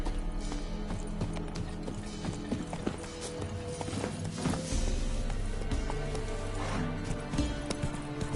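Roach, the horse in The Witcher 3: Wild Hunt, runs with rhythmic clip-clop hoofbeats that continue throughout, mixed with game music, faint mechanical clatter and an occasional whinny.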